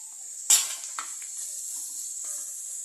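Dried red chilies and curry leaves frying in hot oil in a pan give a steady, faint hiss. A sharp metal clank of a utensil comes early, followed by a few softer taps.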